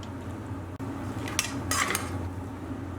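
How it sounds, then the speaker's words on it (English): Rice poured into a cooking pot while making Persian adas polo, a rice and lentil dish: a couple of short, crisp rattling bursts with light clinks over a quiet kitchen hum. "what we'll do next is add in half of our rice"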